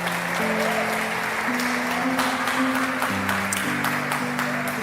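A church congregation applauds during an evening worship service, steady sustained clapping from a large room with sustained musical tones carrying underneath throughout.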